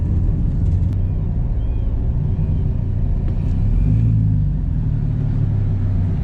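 A Mercedes SLK32 AMG spins out at a drag and roll racing event, producing a loud, continuous engine roar and rumble that swells midway through with rising revs and tire noise.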